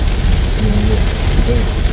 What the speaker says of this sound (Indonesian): Hujan cukup lebat nih di pagi ini.